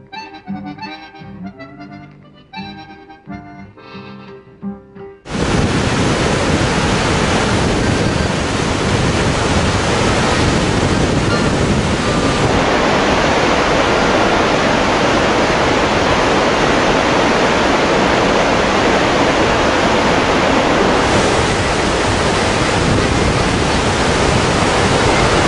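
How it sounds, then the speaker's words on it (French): Waterfall in Patagonia, a loud, dense, unbroken roar of falling water that starts abruptly and then continues steadily and evenly close by. "Nous allons voir une cascade."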